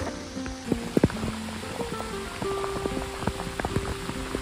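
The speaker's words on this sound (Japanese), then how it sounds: "ものすごい雨に降られています。" Heavy rain pours steadily on a mountain trail near Lake Yamanaka, a dense wash of hiss with scattered close drips and splats striking nearby surfaces, continuous and fairly loud throughout.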